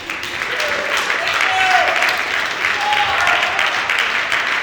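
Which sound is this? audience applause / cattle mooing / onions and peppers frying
audience applause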